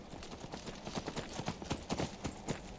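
Horse hooves clip-clopping in the video game Skyrim, a steady rhythmic trot of sharp knocks heard close and fairly loud, with no talking.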